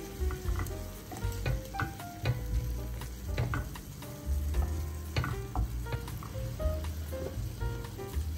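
Grated tomato and vegetables sizzle in a frying pan while a utensil stirs them, giving repeated close scrapes and clicks over a constant bubbling fry with no speech.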